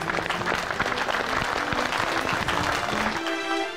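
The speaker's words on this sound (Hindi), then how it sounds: "हम तालियां बजा रहे" A crowd claps steadily and densely for several seconds, the sound close and continuous before it cuts off abruptly near the end.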